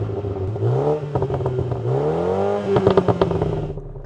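A hot hatchback engine, one of a BMW M135i, AMG A35, Audi S3 or VW Golf R, revving up and down in a couple of close, rising and falling blips with a slight crackle at the end, with no talking.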